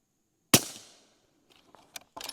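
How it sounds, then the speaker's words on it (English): A single suppressed 300 Blackout rifle shot is fired just beneath steel plates, a sharp loud crack with a decaying tail, followed by faint scattered ticks and a short burst of clatter near the end. "300 Blackout, and I'm gonna shoot it just underneath the steel."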